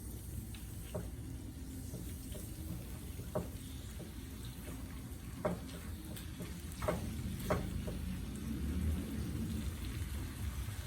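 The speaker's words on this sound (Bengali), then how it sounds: "এই চিকেনটাকে এখন আমি ভালো করে ভেজে নেব।" Chicken pieces frying in a pan with spices, a soft steady sizzle under scattered clicks and stirring sounds, close and fairly quiet, with no talking.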